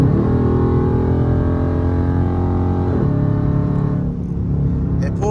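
A Dodge Charger RT's engine holds a loud, steady droning rumble, rising slightly in pitch midway and then easing, heard close with no talk over it.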